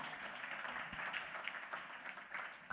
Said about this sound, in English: a big round of applause to the team.